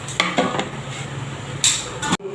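Noodles and broccoli are stir-fried in a pan, heard as a quick series of clinks and scrapes from utensils against the pan over a faint sizzle, ending in an abrupt cutoff.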